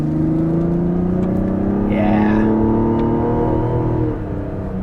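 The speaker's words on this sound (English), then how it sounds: "the inline six under the hood, we're going to talk about that later, but it's quite good, and it sounds really good as well when you're getting after it" A Mazda CX-70 with an inline-six engine accelerates, a smooth rising engine drone with clear harmonic tones that swells and then eases off near the end, heard close and fairly loud.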